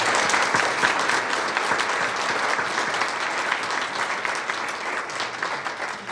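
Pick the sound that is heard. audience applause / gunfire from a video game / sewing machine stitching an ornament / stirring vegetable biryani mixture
audience applause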